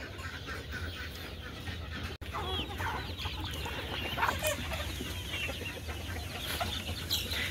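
Golden Misri hens cluck and chatter continuously in a coop, a dense flock noise with overlapping calls, steady and fairly close, with a brief dropout partway through.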